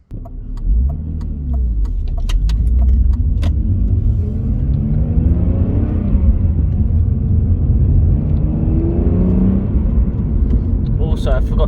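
A BMW E46 car engine drones steadily while driving, with low rumbling road noise throughout and a few faint clicks near the start.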